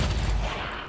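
A brief, dense burst of rapid-fire gunshots from XCOM 2 with the Long War 2 mod, loud and clustered within about a second.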